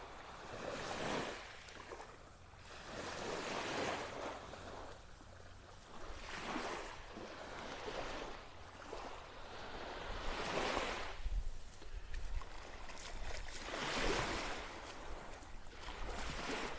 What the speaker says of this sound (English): Some little waves lapping up on the shore, nothing much.